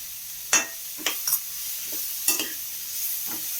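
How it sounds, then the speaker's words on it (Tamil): Banana flower and onion sauté in a pan over a medium flame, with a few sharp stirring scrapes and sizzles against a steady background hiss. "மீடியம் ஃப்ளேமில் வச்சு இது கொஞ்சம் வதங்கட்டும்."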